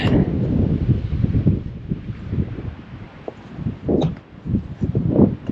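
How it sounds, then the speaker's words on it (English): Outdoors on a dairy farm, wind buffets the microphone in steady, rumbling gusts, loud and close, with faint rustling in the background. "Don't mind the wind."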